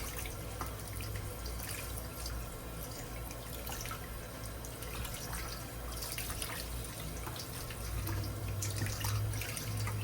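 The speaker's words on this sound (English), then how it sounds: "we're just going to get them rinsed off in this colander very gently" Cold tap water runs over cube steak in a colander, a steady close splashing and trickling stream that continues throughout with no talking.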